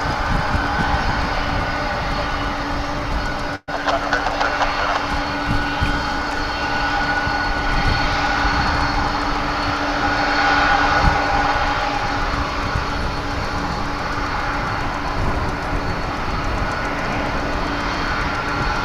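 Jet aircraft passing close at DFW Airport, a loud continuous broadband engine roar with a steady whine that stays strong for the whole stretch, swelling slightly in the middle.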